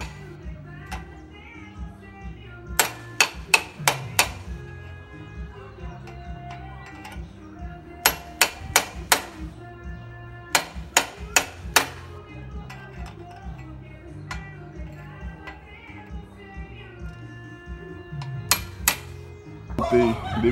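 A hammer knocks repeatedly to pry a stuck part loose, giving bursts of sharp, ringing metallic taps separated by short pauses. The taps are fairly close over a quiet background, and no one speaks.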